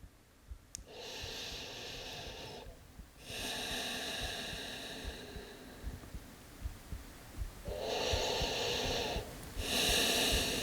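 Slow, deep breaths during a yoga stretch for shoulder and upper-back release, heard as four long, airy swells of inhale and exhale with quiet pauses between them, close to the microphone and without any talking.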